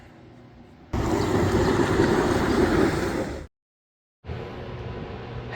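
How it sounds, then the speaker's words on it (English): A heater running close by, giving a loud, steady broadband roar that stops abruptly for a moment and then starts again. "I'm a little close to the heater. Apologize for the noise"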